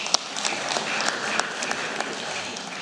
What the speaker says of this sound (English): Let's clap hands as he proceeds.